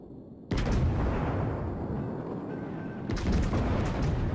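Naval guns fire in a video game training match, two heavy booming blasts a few seconds apart with a long rumbling roll between them, loud and close, no talking.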